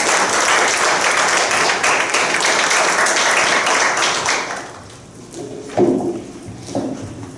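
An audience applauds at a memorial book presentation ceremony, loud, dense and sustained for about five seconds before fading out as a voice begins to speak.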